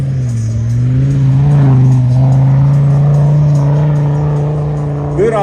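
Ineos Grenadier 4x4 climbing a steep hill, its engine giving a loud, sustained low drone that swells slightly as it labours upward, close and continuous throughout.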